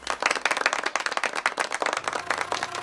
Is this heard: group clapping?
yes